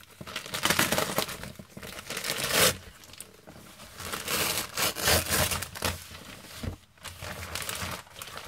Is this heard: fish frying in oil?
no